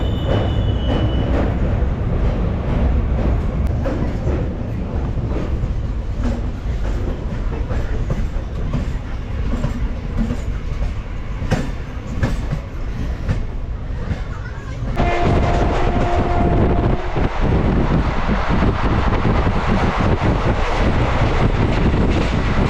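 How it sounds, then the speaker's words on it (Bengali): Maa Tara Express train rolling out of Sealdah, heard from inside the carriage as a continuous loud rumble and rattle of wheels on track, with some voices faintly in the background. "নির্ধারিত সময়ে অর্থাৎ 7টা 20-তে কিন্তু মা তারা এক্সপ্রেস ছেড়ে গেল শিয়ালদা"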